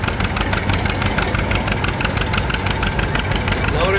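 A 1944 John Deere D tractor labors through a tractor pull, its engine pounding out a loud, rapid, even rhythm close by that holds steady for the whole stretch.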